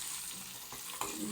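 Unpeeled garlic, dry red chillies and curry leaves crackle in hot oil for a tempering, a brief, faint, steady sizzle close by with one small pop and no talking.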